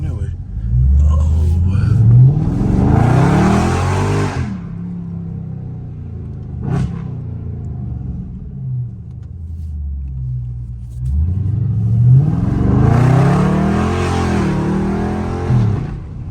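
A Dodge Scat Pack's engine roars and revs in two loud, close surges with a lull between them while the car slides through turns on neighborhood streets; a voice talks over parts of it.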